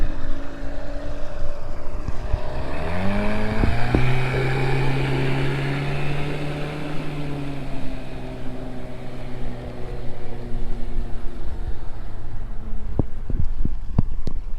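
A boat motor runs steadily throughout, its pitch climbing as the boat gets underway on a test drive after hurricane repairs, with a steady, continuous drone and a few sharp knocks near the end.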